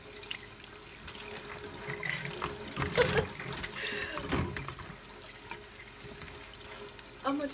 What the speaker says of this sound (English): And then I washed the kale, the strawberry, and a blueberry.